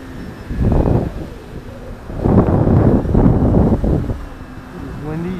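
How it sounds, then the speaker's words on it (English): Outdoor wind buffets a microphone in gusty bursts while an E-Flite Commander RC plane flies. A faint motor whine is audible between the gusts. "This is windy."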